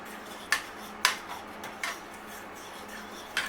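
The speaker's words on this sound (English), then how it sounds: "Now we're going to go ahead and mix in our shrimp with the sauce" Shrimp being stirred into sauce in a pan, heard as a few sharp, light clinks and scrapes of a utensil against cookware, spaced irregularly over a quiet background.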